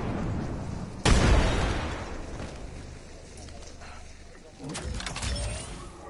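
A grenade blast in a video game bursts loudly after a second, its boom decaying slowly, followed later by a second, softer explosion amid game noise.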